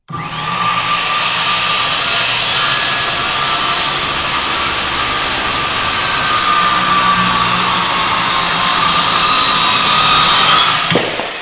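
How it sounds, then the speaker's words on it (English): An angled power saw cuts through a wooden hip rafter in one continuous loud, close whine with rough grinding, steady for about eleven seconds before winding down. "So since this saw is angled only one direction, you're going to want to cut one way"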